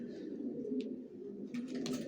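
Janssen line racing pigeons coo softly in a loft, a steady low murmuring drone with a few faint higher chirps breaking in, fairly quiet and close.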